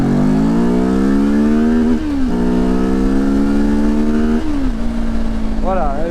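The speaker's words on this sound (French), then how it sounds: "je lâche toutes les vitesses à 9000 tours quasiment" Benelli TRK 702 motorcycle accelerating hard from a standstill, engine revving up through the gears to high rpm with brief dips at each shift, loud and close with strong wind noise throughout.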